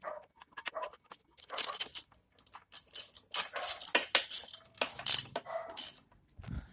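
A wrench tightens bolts on a jet water pump, making a string of sharp metallic clinks, scrapes and taps in irregular bursts, close up and fairly quiet, with no speech.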